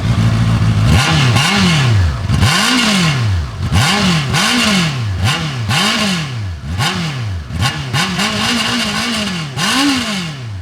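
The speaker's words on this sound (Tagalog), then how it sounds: "Sa mga ganitong inline 4, necessary ang sound check. Start muna natin." Honda CBR 650R E-clutch with its inline-four engine, blipped repeatedly at close range: about nine quick rev rises and falls in a regular rhythm over a steady idle, sharp and loud with no talk.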